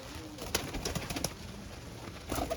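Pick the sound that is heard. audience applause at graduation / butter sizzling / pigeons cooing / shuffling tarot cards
pigeons cooing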